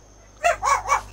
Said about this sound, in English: Yeah, my dogs